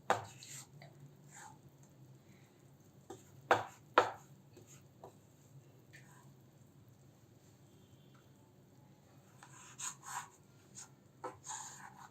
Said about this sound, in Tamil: அந்த நெய்யிலேயே ஃபுல்லாக வறுத்து வச்சுக்கணும்